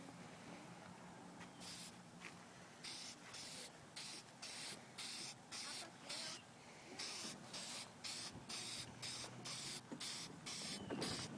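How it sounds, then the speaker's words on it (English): Standard spray paint hisses from a can onto styrofoam in repeated short bursts, close and steady in rhythm, with brief pauses between each spray. "We're just going to use standard spray paint to do that."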